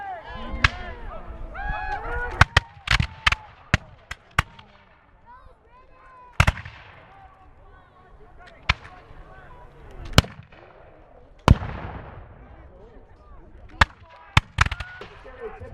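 Muskets fire in volleys at a reenactment of the Battle of Stoney Creek: loud, sharp cracks come singly and in quick clusters, some distant and some near, while voices talk underneath.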